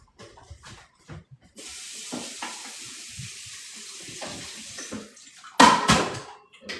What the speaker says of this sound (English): I like to soak my greens in water, right?